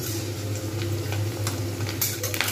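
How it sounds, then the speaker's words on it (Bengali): Potato sticks deep-frying in hot oil until reddish, giving a steady, moderately loud sizzle with light crackles and occasional utensil clicks. "একদম লালচে করে ভেজে নেব।"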